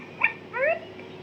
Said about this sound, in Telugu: డాగ్ బాక్ చేసినట్టు మనకి ఇందులో సౌండ్ వస్తుందండి